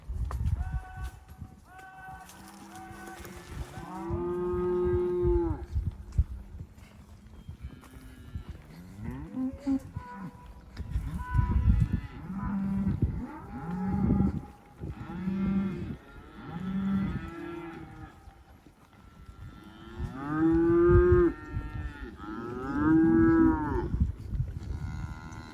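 Cattle on a Colorado ranch pasture low repeatedly in drawn-out moos, several animals near and far, with hoof clip-clops and scattered rustling mixed in.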